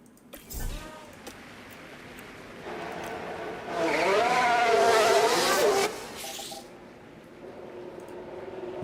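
An F1 race car in the racing management game F1 Manager 24, at Monza in Italy, starting a run on a sprint weekend: a high, whining engine rises and shifts through gears, loud and close, then fades to a lower hum.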